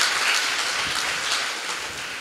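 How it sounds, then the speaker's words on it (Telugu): Church congregation applauding at a parish anniversary celebration, a loud even burst of many people clapping together, brief and continuous. "వీళ్ళ ముగ్గురి గురించి గట్టిగా చప్పట్లు కొట్టి ఒక్కసారి దేవునికి స్తోత్రం"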